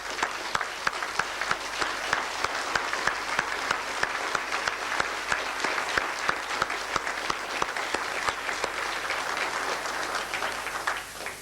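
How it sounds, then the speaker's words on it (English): Sustained audience applause for census enumerators at the release of South Africa's first democratic census, dense even clapping filling the room without a break. "May I ask you to applaud them?"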